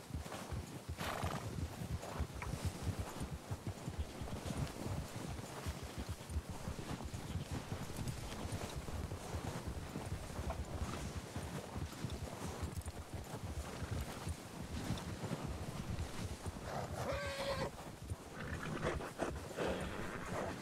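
Horse in the RedM game, a Red Dead roleplay set in snow, whinnying and clip-clopping steadily throughout with a panting breath near the end, close and loud without talk.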